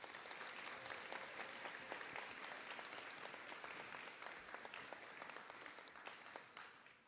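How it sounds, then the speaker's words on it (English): Sustained applause from a large graduation audience honoring educators at the John Marshall School of Information Technology ceremony, dense steady clapping throughout that tapers off near the end. "Let's give them one more round of applause"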